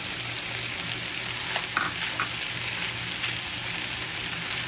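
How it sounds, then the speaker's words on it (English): Ground beef with green peas fries in a pan, a steady close sizzle and crackle with occasional stirring clicks, continuous throughout and without talk. "So I'm just going to brown this ground beef."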